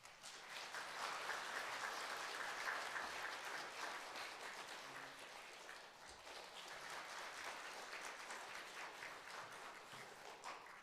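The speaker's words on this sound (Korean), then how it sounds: "우리 큰 박수 해주시기 바랍니다." A church congregation applauds at a Sunday service, with steady, dense clapping that holds loud and continuous from start to finish without speech.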